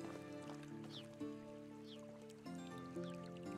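A small river flows in the medieval survival game Medieval Dynasty, a quiet, steady trickle of water heard faintly under a layer of game ambience and music tones.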